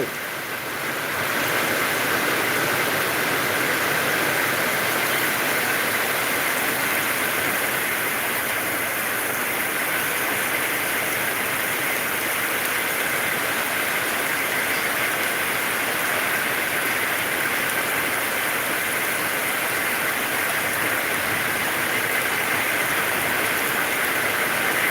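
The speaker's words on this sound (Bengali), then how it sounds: "উত্তরবঙ্গে সব জেলায় বৃষ্টি চলছে" Heavy rain pours down in Dinhata, Cooch Behar, a steady, loud, unbroken roar of rainfall that lasts throughout, with no voices.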